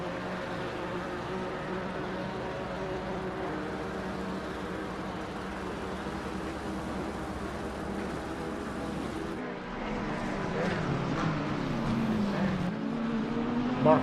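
Racing engines of a Porsche Cayman and a KTM in a sim race at Monza, a steady mid-level drone that shifts tone and grows slightly louder partway through, heard from a moderate distance.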